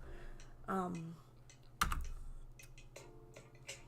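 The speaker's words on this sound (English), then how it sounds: "I click the letter M on my keyboard." Single and clustered key clicks on a computer keyboard during a drawing session, sharp close taps between pauses with a faint steady hum underneath.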